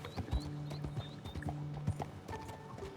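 Horse hooves clip-clopping at a steady walking rhythm along a trail in Red Dead Online, close and distinct, with a low mechanical hum running underneath and faint whistling tones above.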